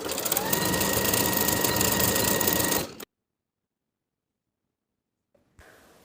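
A sewing machine zigzag stitches across the overlapped short ends of elastic for pull-on barrel leg pants, running steadily and close for about three seconds before stopping, followed by silence and a faint rustle.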